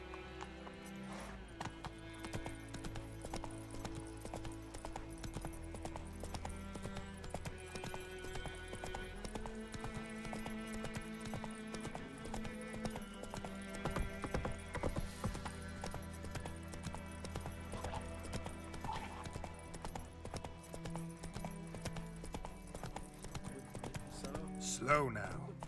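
The horse Roach gallops in The Witcher 3: Wild Hunt, a continuous rhythmic clip-clop of hooves running under a steady bed of game music, while a person talks intermittently over it.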